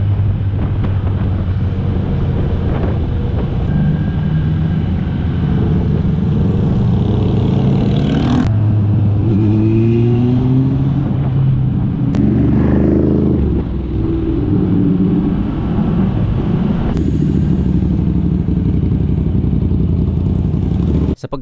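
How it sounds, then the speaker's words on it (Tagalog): Big bike motorcycles riding in a convoy along the Calbayog Coastal Road, engines droning and rising in pitch as they pass, loud and close with wind buffeting throughout. "Grabe par, ang ganda ng tunog ng kanilang mga motor."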